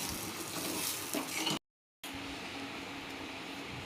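Stuffed bitter gourd with peanut chutney sautéing in a pan, a continuous close hiss of frying with faint stirring scrapes, broken by a brief silent gap midway.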